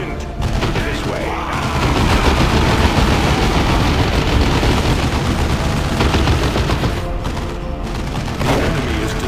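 Dawn of War II battle with continuous heavy gunfire, rapid machine-gun bursts and booming explosions layered into a dense, loud roar that barely lets up, while game voice lines speak over it.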